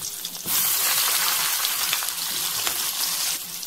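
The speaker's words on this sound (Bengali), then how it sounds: "দেওয়ার পর মাছের পুর দিয়ে দেওয়া সেই পটলগুলো গরম তেলের মধ্যে দিয়ে দেবেন।" Pointed gourds (potol) stuffed with a fish filling sizzle loudly in hot oil, a dense, steady crackle that swells in at half a second and holds to the end with no talking.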